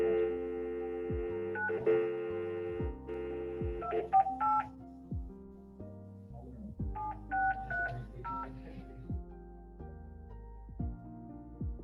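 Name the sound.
telephone dialing tones on a call line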